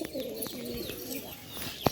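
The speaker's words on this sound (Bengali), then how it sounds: "পায়রা অনেকগুলোই রয়েছে এখানে" Several pigeons coo softly and repeatedly at close range, with a brief sharp knock or flutter near the end.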